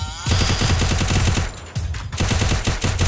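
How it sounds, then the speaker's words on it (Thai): Rapid automatic gunfire from the battle royale game Free Fire, dense bursts of shots that run nearly continuously, loud and close, with a short gap partway through. "ดูพี่ตั้งใจยิงมากตอนนี้ โอ้ยยิงไม่โดนเลย"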